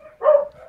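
A single short, sharp bark from an angry dog, close and fairly loud, lasting under half a second against near silence.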